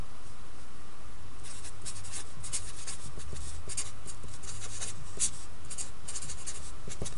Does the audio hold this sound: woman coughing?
no